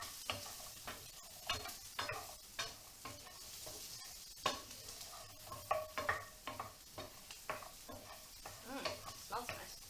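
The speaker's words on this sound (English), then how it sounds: "So lightly saute them." Food lightly sautéing in a pan, a quiet bed of sizzle broken by repeated scraping and tapping strokes of a utensil at an uneven rhythm, fairly faint and close, without talk.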